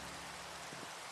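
Steady rain falls in the Minecraft modpack Oceanblock 2, a constant, even hiss of droplets with a couple of faint soft thuds, no voices over it.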